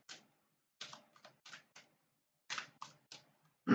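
A tarot card deck shuffled by hand, giving quiet, dry riffling clicks and taps in short irregular bursts with pauses between them, ending in a louder thump.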